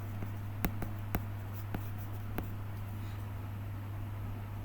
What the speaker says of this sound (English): I go back and I write my given equation